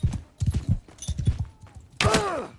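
Horse hooves clip-clop in Mount and Blade II: Bannerlord, a few quick uneven thuds up close over the first two seconds before a burst of other game noise takes over.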